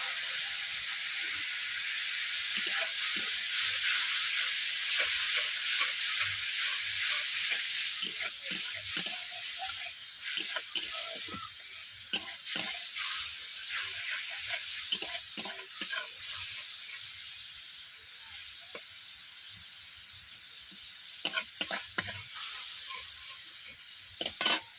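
Kohlrabi with chili and turmeric powder and a little water is stirred in a frying pan, a steady close sizzle broken by repeated scraping and clinking of the spatula against the pan.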